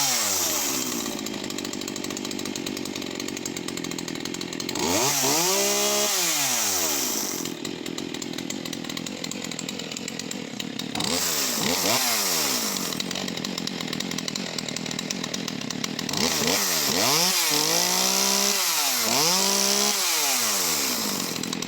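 Stihl MS181C chainsaw running unevenly after a restart, its engine repeatedly revving up and dropping back in a surging, hunting rhythm, loud and close throughout.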